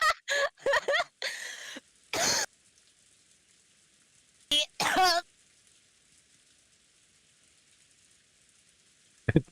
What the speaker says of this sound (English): but you're coughing a lot